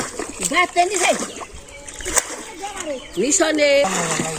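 Water bailed and splashed out of a boat in a village setting, irregular close splashes and sloshes heard under speech and other voices.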